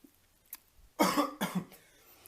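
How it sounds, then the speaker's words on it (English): A single close, rough cough in two harsh bursts, clearly heard against near silence. "sorry for my cough"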